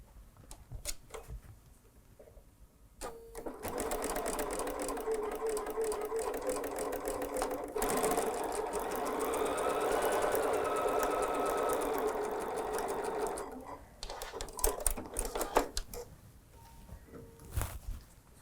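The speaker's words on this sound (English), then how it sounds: "let's sew a 1/4 inch seam" A domestic sewing machine stitches a quarter-inch seam on quilt patchwork pieces, a steady rapid mechanical whir running for about ten seconds between quiet handling noises and small clicks.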